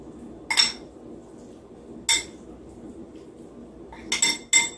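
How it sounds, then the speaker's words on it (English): Spoon clinking against a bowl while mango and corn salsa with lemon juice is stirred, four or five sharp scraping clinks spaced irregularly over a quiet background. "then we're gonna go ahead and stir it all up together"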